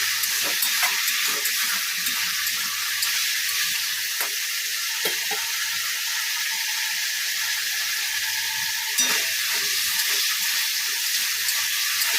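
A spice paste cooking with raw mango pieces in a pan for a fish recipe sizzles steadily. There are occasional scraping stirs and clinks, close and fairly loud, with no talk.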